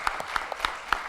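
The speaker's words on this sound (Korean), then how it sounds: "하나님께 영광의 박수를 보내겠습니다" Congregation clapping in church during an anniversary revival service: a short run of sparse, separate claps with a few louder ones, faint and without other sound.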